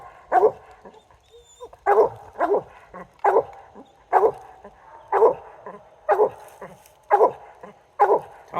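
Coon dog named Subi barking at a trapped wild animal, a loud, regular series of about nine sharp barks spaced roughly a second apart, close by with brief quiet gaps between them.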